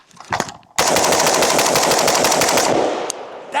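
A PSA M16A4 with a 20-inch barrel fires 5.56 rounds in a fast, sustained burst, loud and close, after a couple of separate shots, then stops abruptly, leaving a brief echo.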